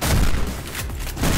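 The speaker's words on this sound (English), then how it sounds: "how many times could I miss with a shotgun, really?" Shotgun blasts in the Mirror's Edge video game, loud close booming shots in quick succession that fill the whole moment.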